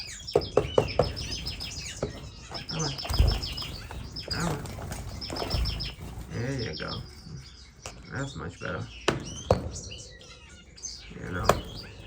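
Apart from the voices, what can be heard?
owl finch babies chirping in bird room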